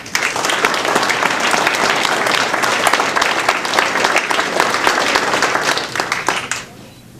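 Loud, dense applause from an audience at a 2015 academic awards ceremony honoring young leaders, sustained steadily for several seconds before tapering off at the end.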